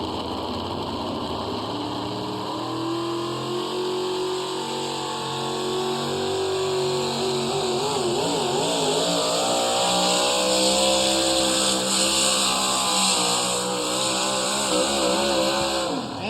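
A four-wheel-drive pulling truck at a tractor pull revs its engine hard, a loud, steady, high-pitched roar whose pitch wavers and climbs across the clip, with no talk.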